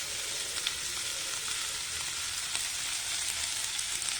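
Onions fry in a pan for tomato curry, giving a continuous, even hiss of sizzling oil, close up and alone, with only faint occasional stirring ticks.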